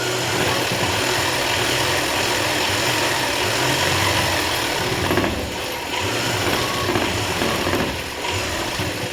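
A sewing machine runs continuously while stitching a boy's government school uniform shirt, a loud, dense mechanical whirr and clatter that barely changes, with two brief dips near the end and no voices.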